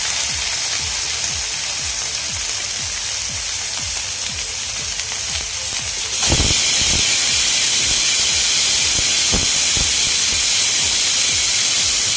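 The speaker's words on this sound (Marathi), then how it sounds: "आणखी एक शिट्टी आपण करून कुकरचा गॅस बंद करणार आहोत" A pressure cooker on the gas, cooking for spicy Puneri misal, lets out a loud, sudden rushing steam whistle partway through that keeps going to the end, over steady sizzling and stirring from a nearby pan.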